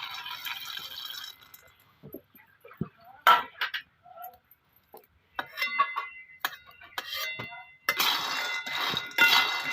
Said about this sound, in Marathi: कढई तापलेली आता आपण शेंगदाणा भाजून घेऊया